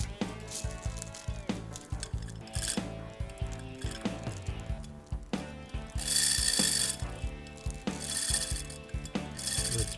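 Ratcheting, rubbing mechanical clicks from the movement of an antique Seth Thomas clock as a tight screw is loosened during repair, close and steady with a few brighter metallic bursts toward the end.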